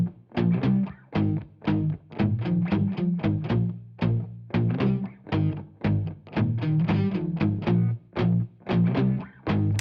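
Electric guitars through a Mesa Boogie Triple Rectifier amp with a vintage metal lead sit in a full band mix, playing tight, chopped rhythmic chords in a steady stop-start pattern, loud and upfront with no talking.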